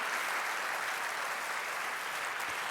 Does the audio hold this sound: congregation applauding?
yes